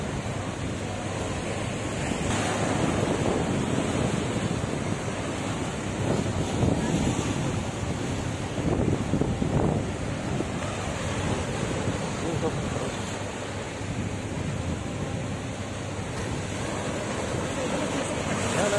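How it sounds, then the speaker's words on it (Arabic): Sea water washing and breaking against shoreline rocks at Gleem Bay in Alexandria, a steady, rushing roar of surf with wind buffeting the microphone throughout, swelling slightly in a few places. "منظر الصخور وصوت الميه وهي بتخبط فيها من احلى واجمل واكتر الحاجات"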